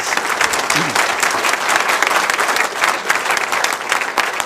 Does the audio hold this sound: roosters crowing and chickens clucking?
no